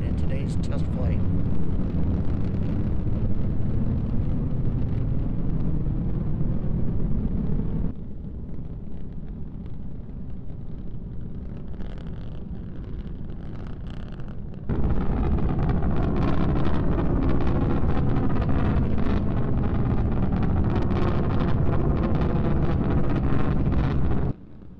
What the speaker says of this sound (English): All three Raptor engines continuing to burn.